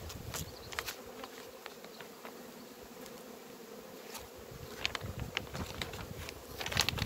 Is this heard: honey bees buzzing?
yes